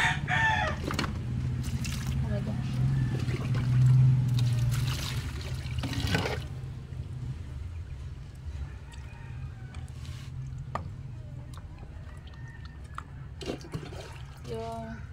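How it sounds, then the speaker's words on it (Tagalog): Water runs in a steady rush for several seconds while things are washed, then stops, leaving a quieter scene where a rooster crows in the background. "So, hugasan na natin sila,"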